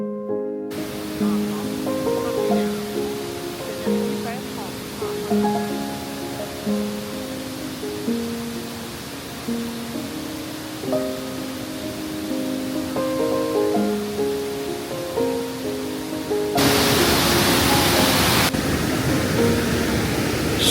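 Shuzheng Waterfall in Jiuzhaigou, a broad waterfall 11 metres high and 62 metres wide, gives a steady wash of falling water under music, swelling louder near the end.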